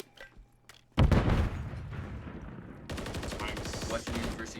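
A sudden sharp rifle shot in a Call of Duty match, loud and booming, followed by sustained rapid gunfire and game noise.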